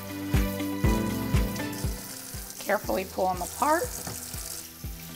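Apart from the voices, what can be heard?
rinsing grape leaves under cold running tap water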